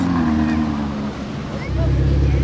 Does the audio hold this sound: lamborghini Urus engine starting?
yes